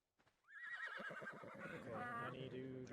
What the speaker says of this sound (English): Oh no, I'm trapped by donkeys.